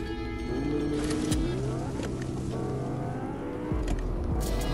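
Lamborghini car engine in the Fortnite video game, a revving motor with rising and falling pitch sweeps, loud and close, over game music.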